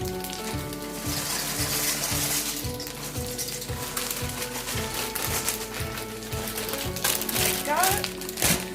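Sausages sizzling in a frying pan give off a steady, close hiss and crackle, with a faint rhythmic background beat and a person talking over the frying.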